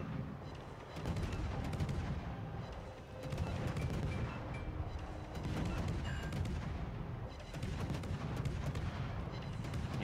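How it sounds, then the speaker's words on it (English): Naval guns fire from warships in World of Warships, a Harugumo's salvos loud and continuous in heavy, rolling booms that swell and fade across several waves, with no talking. "I'm just kind of rotating my shots over the length of the ship, trying to hit multiple zones"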